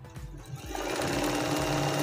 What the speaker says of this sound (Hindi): और अब इसकी जो सिलाई है वो करते हैं।